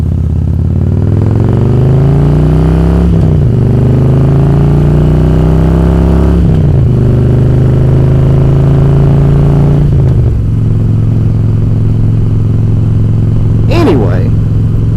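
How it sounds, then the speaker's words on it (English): A 2005 Harley-Davidson Ultra Classic Electroglide motorcycle under way, its loud engine rumble climbing in pitch through each gear and dropping at three shifts before settling into a steady cruise. "This evening finds me astride my faithful steed, my 2005 Harley-Davidson Ultra Classic Electroglide."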